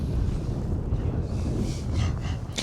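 Cold wind at the Mauna Kea summit buffeting the microphone, a continuous low rumbling gust that stays loud and close throughout.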